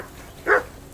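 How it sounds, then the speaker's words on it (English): A single short dog bark in the video game Kingdom Come: Deliverance II, one sharp mid-loud yelp rising over a quiet background with no other sounds. "That barking was a pain in the ass."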